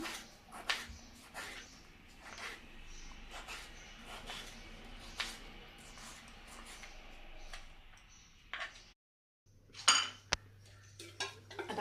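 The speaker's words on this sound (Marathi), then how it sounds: "आता आपण टोमॅटो चिरून घेऊया" A knife chops tomatoes on a board in a home kitchen, making a series of faint, fairly regular taps and clinks that break off briefly before a few more cuts.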